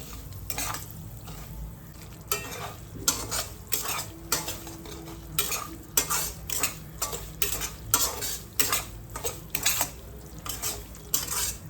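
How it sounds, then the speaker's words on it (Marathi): Fine semolina roasting in ghee for sweet prasad sheera, stirred with a metal spoon that scrapes and clinks against the pan in a steady, repeated rhythm over a soft background sizzle, close and with no talking. "रवा चांगला तुपामध्ये भाजून घ्यायचा आहे"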